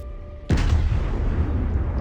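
Battleship guns in World of Warships fire a single loud booming salvo from the Colorado, a sudden blast followed by a long rolling rumble that fills the rest of the moment.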